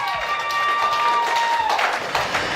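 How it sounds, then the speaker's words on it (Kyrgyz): Guests at a Kyrgyz wedding banquet in a Moscow restaurant break into brief applause, a dense burst of clapping over a hum of crowd noise and a steady musical tone in the hall. "биздин аш постарына бир кол чаап коюңуздар"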